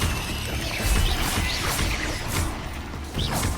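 Spell-casting effects for Expelliarmus in the Hogwarts Legacy video game: a dense run of whooshing, crashing magical bursts and impacts over a steady game-score background, with no talking.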